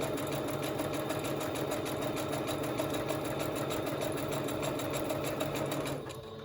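Sewing machine running a zigzag stitch across the top of a patterned paper craft pocket, a steady, close, continuous mechanical whir for about six seconds before it stops.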